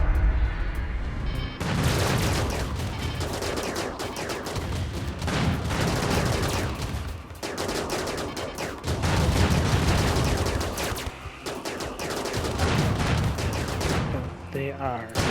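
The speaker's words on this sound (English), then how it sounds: "Our guns should take these guys out pretty quickly." In the video game RimWorld, a ship's guns fire in long, dense volleys of rapid shots and booms, loud and nearly continuous, with brief lulls between bursts.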